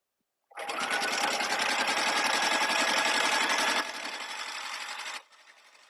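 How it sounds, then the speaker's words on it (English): A sewing machine runs a continuous straight stitch down a quilt, a steady close whirring rattle that starts abruptly, holds for several seconds, then drops to a lighter running hum before stopping. "We are sewing all the way down, nice and straight."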